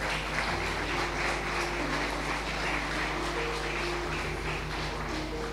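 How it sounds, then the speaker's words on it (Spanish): A church congregation applauds in a continuous, even wash of clapping, with sustained musical tones running beneath it throughout. "Dale un aplauso a Jesús."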